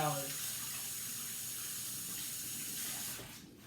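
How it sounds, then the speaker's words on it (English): Tap water runs steadily into a sink as hands are washed before making bacon, a close continuous splashing hiss that fades out at the end. "All right, my hands are washed."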